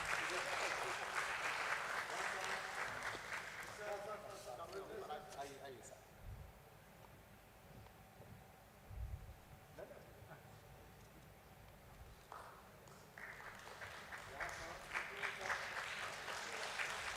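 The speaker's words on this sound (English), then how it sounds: "Let's welcome the three of them with a round of applause." Audience applause at the INOX India Limited listing ceremony at BSE, a sustained crowd clapping that fades after a few seconds, dies to a quiet room, then swells again near the end.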